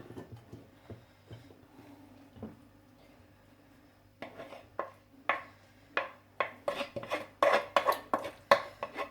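Ceramic plates and utensils clink in a kitchen while pounded banana salad is served onto dishes. Sparse taps at first, then a quicker run of sharp, close clatters.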